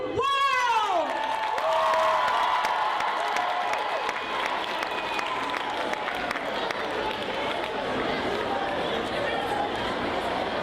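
A school assembly crowd of students applauds and cheers for a band, a loud, sustained wash of clapping and shouting with chatter running underneath throughout.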